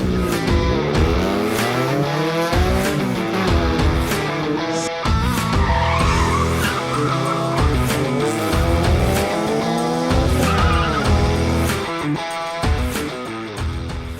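Race cars skid with squealing tires and roaring engines at round 2 of the 2024 Super Sprint Series, a grassroots sprint racing event. The sound is loud and continuous throughout, with no talking.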